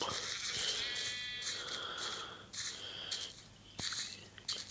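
Blocky Minecraft sheep bleating inside their pen, several short nasal bleats repeating in irregular succession, close and clear above a faint constant hiss with a few soft clicks, no voices.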